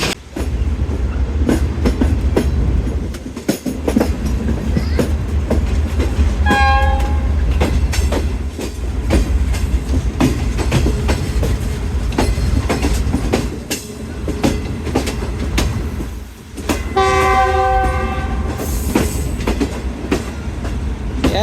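Allama Iqbal Express passenger train rolling past at close range with heavy continuous rumble and wheel clatter, its horn sounding twice in loud sustained blasts.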